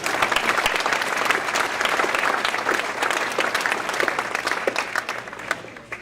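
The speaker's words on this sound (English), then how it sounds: "round of applause for Mark Henry, please" Audience at a 40 Under 40 awards event applauding an absent winner, a full, steady burst of many people clapping with crisp individual claps poking through, fairly close and uninterrupted by speech.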